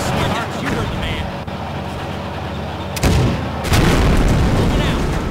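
Artillery and gunfire in the World War II strategy game Blitzkrieg 2, heavy booms and bursts swelling loud near the end, mixed with voice chatter and battle noise throughout.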